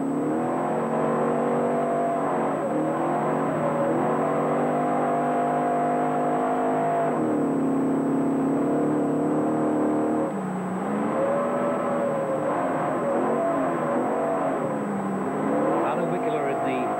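The number 2 Mercedes rally car on a 1978 British rally championship forest special stage roars past, its engine note rising and falling through gear changes, heard under a commentator's continuous talk.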